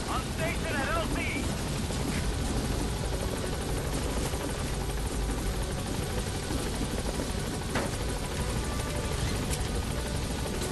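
A helicopter in the video game Metal Gear Solid V keeps up a dense, steady rotor roar, with scattered sharp game sounds and speech mixed into the noise.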